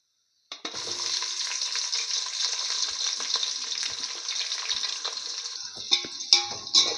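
Onions dropped into hot oil for prawn biryani, a sizzle that bursts in suddenly after a moment of silence and holds steady, with stirring clatter near the end.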